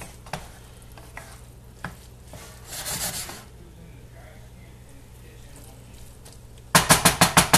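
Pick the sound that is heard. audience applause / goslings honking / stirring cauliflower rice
stirring cauliflower rice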